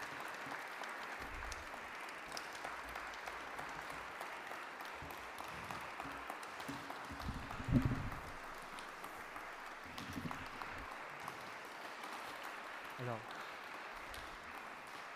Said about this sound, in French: C'est gentil, ces applaudissements d'encouragement et d'accueil